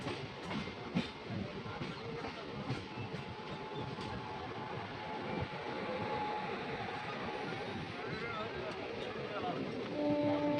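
An Asansol–Varanasi MEMU passenger local train runs with a steady rumble and rattle of carriages, packed with passengers talking nearby; a faint tonal hum emerges toward the end.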